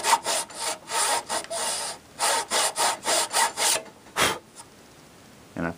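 A hand saw works through wood for a chest of drawers in brisk, regular back-and-forth strokes, close and loud, pausing briefly before a final few strokes and a faint scrape.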